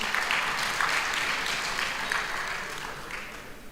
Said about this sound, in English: A very big round of applause for the CFO.